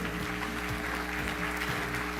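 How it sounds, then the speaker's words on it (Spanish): Steady applause from an audience, fairly even and moderately quiet throughout, with a low hum beneath it. "un aplauso para ella"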